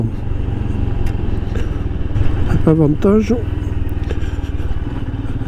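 A Royal Enfield Himalayan motorcycle engine drones steadily while riding on back trails, a low continuous rumble close by, with someone talking briefly over it.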